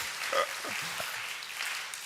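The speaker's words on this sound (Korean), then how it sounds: "모든 봉사자에게 감사의 박수 올려드리겠습니다" A church congregation at a Sunday worship service gives the volunteers a soft, diffuse wash of applause that holds steady throughout, with faint voices mixed in.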